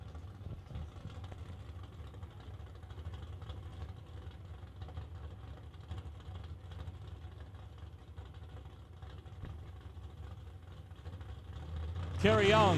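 Drag racing cars fire up and idle behind the timing tower at a doorslammer event, a steady low engine rumble at a distance that continues throughout, with a louder burst at the very end.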